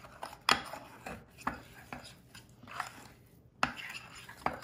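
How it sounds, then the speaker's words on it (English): Spoon stirring salt dough made of flour in a bowl, a series of irregular scraping knocks and soft thuds at close range, moderately loud with quiet gaps between strokes. "So I'm gonna keep stirring."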